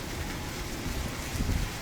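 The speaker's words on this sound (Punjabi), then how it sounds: "ਬਰਸਾਤ ਸ਼ੁਰੂ ਹੋ ਗਈ ਹੈ ਬਹੁਤ ਤੇਜ਼ بارش ਹੈ" Heavy rain pours in Abohar, Punjab, a dense, steady hiss of falling water with no gaps.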